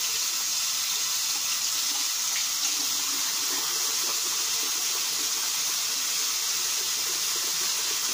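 Tap water runs steadily from a faucet to wet a hairbrush, a continuous close hiss and splash with no break and nobody speaking.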